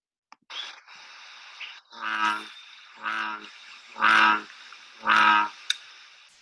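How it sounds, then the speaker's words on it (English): Several deep, resonant bullfrog calls, four or five spaced about a second apart, loud and near against a high insect-like drone. "bullfrog. They're our largest frog in all of North America."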